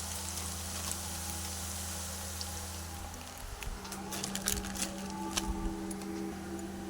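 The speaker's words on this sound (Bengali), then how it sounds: "পেঁয়াজটা ভাজা হোক তারপর দিয়ে দেবো চিকেনে" Onions fry in a pan for chicken biryani with a faint, steady sizzle and scattered soft crackles and ticks, heard close and without talk.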